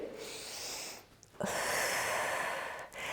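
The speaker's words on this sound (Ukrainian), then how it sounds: "І вдих. І видих." Deep breathing during morning exercises, a long airy exhale followed by a brief pause and then another sustained breath, close and steady with no talking.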